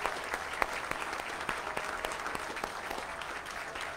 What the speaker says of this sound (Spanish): Denle un aplauso a estas personas